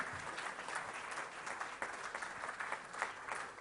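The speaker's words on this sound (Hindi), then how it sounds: "तालियों के साथ इस मैगजीन के विमोचन का स्वागत किया जाए।" Audience applause at a health summit inaugural session in Rajasthan, greeting a magazine launch: steady, dense clapping from a large crowd that holds evenly for several seconds with no voices over it.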